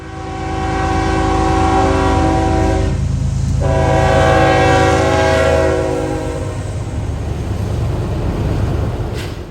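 A train passing through Greenville, South Carolina sounds a loud sustained horn chord over the rumble of the rails, the blast briefly dipping and then holding as the cars roll steadily by.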